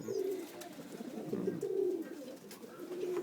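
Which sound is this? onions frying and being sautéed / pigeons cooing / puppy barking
pigeons cooing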